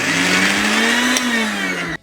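A kitchen mixer grinder whirs steadily at high speed, loud and close, as it grinds coconut with salt and no water for chutney, cutting off abruptly after about two seconds.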